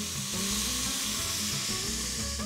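Ground spices, turmeric among them, toast and sizzle steadily in a pot for a Middle Eastern eggplant and lamb stew, a continuous loud frying hiss with no talk.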